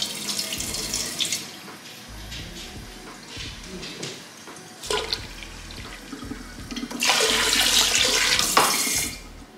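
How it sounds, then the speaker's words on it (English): Cool tap water runs into a container in bursts, splashing and hissing as the flow starts and stops, with a louder, steady gush toward the end. "I'm gonna be adding some cool water"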